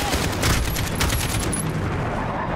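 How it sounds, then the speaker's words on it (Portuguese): Rapid automatic gunfire in Call of Duty: Modern Warfare (2019), with dense overlapping shots at steady loudness filling the whole moment, like a firefight with dual AK rifles and no voices heard. "Atirem neles!"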